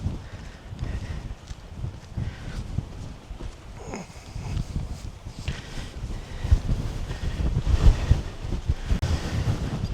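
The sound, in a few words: strong wind on Warley Moor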